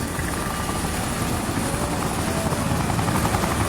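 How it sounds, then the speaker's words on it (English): A helicopter takes off, a loud steady rotor and engine roar filling the scene continuously without pause, no voices heard. "Once the chopper takes off again"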